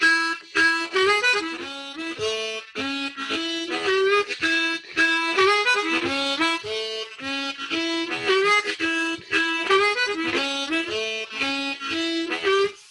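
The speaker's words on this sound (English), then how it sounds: "you carry on through that first position C, first position 7th arpeggio." Harmonica runs steadily through a first position C seventh arpeggio pattern, played in even rhythmic repeated phrases for several bars, close and clear with no voices.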